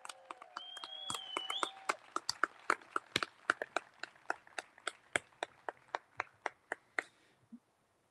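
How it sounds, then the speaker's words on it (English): Faint, sparse clapping for graduates at a Warren Wilson College commencement, in a slow, even rhythm, each clap distinct, gradually fading out after several seconds. "Can we have some applause for the class of 2021"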